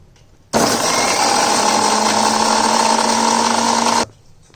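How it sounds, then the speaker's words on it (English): A kitchen mixer grinder blends chilies and peeled garlic into a fine paste, a loud steady whir that starts abruptly, holds evenly for about three and a half seconds, then cuts off. "grind this into a fine paste."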